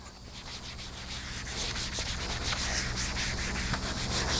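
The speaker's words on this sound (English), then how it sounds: "I'm just going to keep wiping it down with a damp sponge and a lot of soap." A damp soapy sponge wipes over a leather saddle in steady back-and-forth strokes, a close, continuous soft rubbing and swishing that grows slightly louder.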